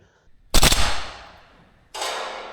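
A VFC AK105 gas blowback airsoft rifle fires outdoors at long range: one sharp, loud shot with a decaying tail, then a second crack cut short.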